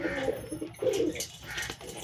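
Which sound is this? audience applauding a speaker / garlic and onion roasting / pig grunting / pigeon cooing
pigeon cooing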